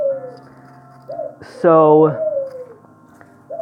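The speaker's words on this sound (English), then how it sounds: "the doves are going crazy" Doves coo loudly and close by, a harmonic cooing call that swells and fades, with softer calls around it and a voice speaking briefly over the birds.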